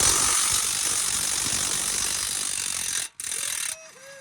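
Rapid, dense clicking of a Craftsman ratchet wrench working on a Coyote Mustang, loud and close for about three seconds before stopping abruptly, followed by a brief higher squeak.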